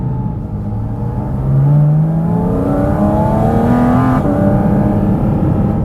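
A 2023 Porsche 718 Cayman GT4 RS engine revving hard, its pitch climbing and holding at a loud, steady growl, close up and with no voices.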